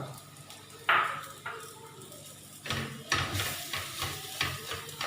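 Masala and soya chunks roasting in a pan on a slow flame: a gentle sizzle broken by scraping stirs that push the spice mix around, alone and close.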